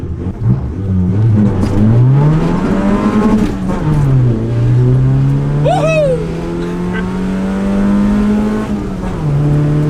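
A Mazda 121 engine revs hard and climbs in pitch as it accelerates, loud and close, with a brief excited shout partway through.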